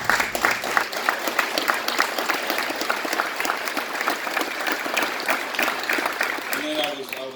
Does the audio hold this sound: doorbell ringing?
no